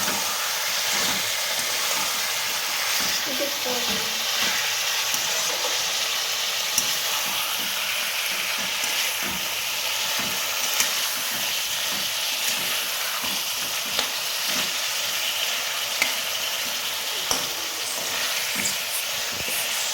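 Chicken tahiri sautéing with chili powder in a pan gives a steady broad frying sizzle and hiss that runs unbroken, close and fairly loud, with faint stirring clicks over it and no voices.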